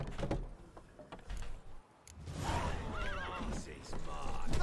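Roach, the horse in The Witcher 3, lets out a loud whinny over rapid hoofbeats from galloping, while someone talks over the game sounds.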